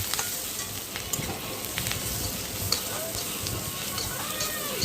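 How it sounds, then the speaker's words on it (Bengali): Onions sizzle and crackle steadily in hot oil over a high flame, with scraping stir strokes and occasional sharp pops running throughout at close range. "আবার ফুল আঁচে দিয়ে ভালো করে ভাজবে"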